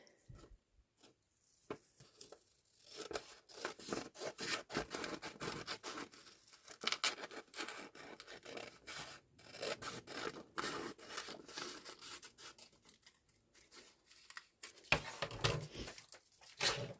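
Scissors snip paper close by, cutting out pieces for a handmade envelope junk journal in a string of crisp, irregular cuts and rustles.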